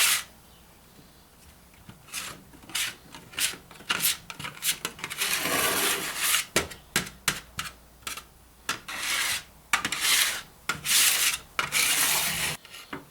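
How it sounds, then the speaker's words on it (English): Cooling candle wax is scraped from the bottom of a pan and chopped for grungie scented tart melts, giving soft, close rasping strokes in irregular bursts with short pauses between them. "scrape the bottom of the pan and chop it like this"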